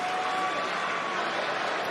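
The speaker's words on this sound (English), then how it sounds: "Crowd firmly in Uso's corner tonight." A wrestling arena crowd in Hartford roars steadily for Jey Uso at WWE Raw, a dense, continuous wash of cheering that stays loud and even for the whole stretch, with no single voice standing out.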